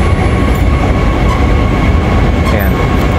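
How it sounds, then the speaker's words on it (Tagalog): A train runs through a station in Perth, Western Australia, on the city line toward Fremantle, a loud close rumble with rail noise and faint squeal, steady throughout. "Ayan yung train."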